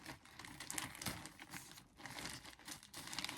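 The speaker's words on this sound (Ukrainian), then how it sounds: "далі відкриваємо пакет тему" A plastic Temu parcel is handled and opened at close range, a quiet, continuous crinkling rustle with small crackles and short pauses and no talking.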